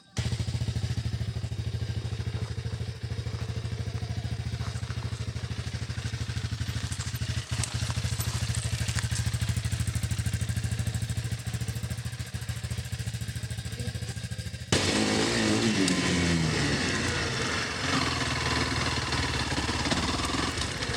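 A Honda CRF 300 motorcycle engine drones steadily and loudly throughout while riding, with a deep low rumble and wind noise; a sudden clattering shift happens near the end.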